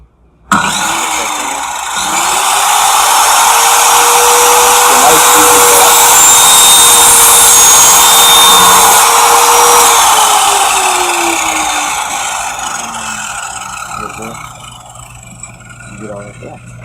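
A power saw bites into a 10-inch standpipe, a loud sustained whining cut that rises quickly, holds steady for several seconds, then winds down and fades as the blade spins out.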